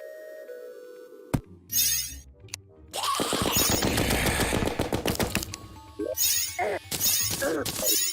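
Grenade explosions in the game Terraria arrive as a burst of sharp, rapid cracks and booms, then further clustered blasts among music and game effects, loud and close with no speech.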